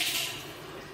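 Water runs briefly from a push tap into a sink, a soft hissing splash that fades slightly as it goes.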